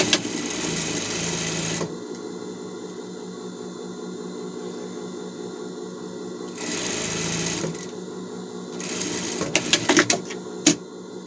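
A zigzag sewing machine stitches elastic in bursts, a fast mechanical whir that runs, pauses, runs again and then ends in a few sharp clicks and knocks, close and fairly quiet.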